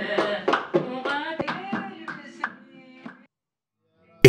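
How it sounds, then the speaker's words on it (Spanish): Rhythmic hand clapping at a desert Medh celebration, a steady sequence of sharp claps with voices mixed in, fading out toward the end before a brief loud burst. "Ahora solo se bastan con la percusión, palmas y voces."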